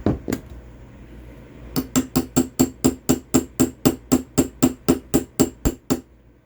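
A steady series of sharp metallic hammer taps, about fifteen evenly spaced strikes on a small pin in an AK shotgun gas system, close and ringing, after a couple of isolated hits.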